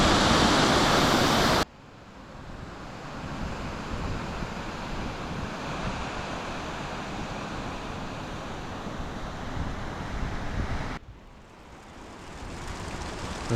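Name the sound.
small waterfall at hot springs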